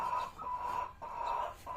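A four-month-old Tiger breed hen clucks in repeated short bursts, close and fairly loud, with brief pauses between calls and no talking.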